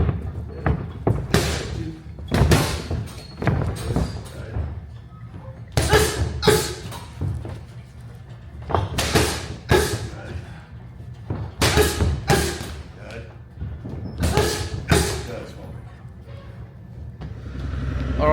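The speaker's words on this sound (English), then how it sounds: "just some rounds on the pads and the bags with Eric" Punches land on boxing pads and a heavy bag in quick bursts of thuds and slaps, combinations of two to four hits separated by short pauses, close and fairly loud.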